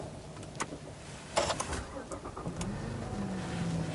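A Sono Motors Sion solar-charged electric prototype car is switched on and readied to drive: a few clicks and clunks, then a faint rising electric hum that settles into a steady low tone.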